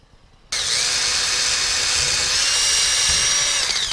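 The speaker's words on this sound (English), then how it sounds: "Now what I want to do is lay this out and drill my holes." A power drill bores holes through a soft styrene plastic box, its steady motor whine starting abruptly after a brief quiet moment and holding continuously and loudly close to the microphone.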